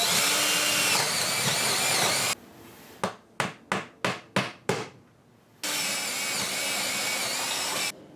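Wall anchors driven into plywood behind a display wall by a power tool: loud sustained whirring, then six sharp rhythmic impacts, then whirring again, close and without talk.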